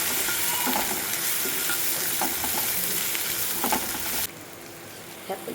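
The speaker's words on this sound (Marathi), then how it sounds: "एक चमचा मोहरी एक चमचा तेलामध्ये हळद आणि असं टाकून परतून घ्यायचं" Mustard seeds and turmeric fry in a spoonful of hot oil with a dense close sizzle and crackling spatter, plus stirring scrapes, until the hiss drops off abruptly near the end.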